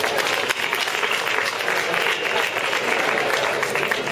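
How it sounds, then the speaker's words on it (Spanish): Audience applause for María at a PechaKucha night, a dense, steady wash of clapping from a room full of people that holds at a constant level for the full stretch. "Un aplauso para María."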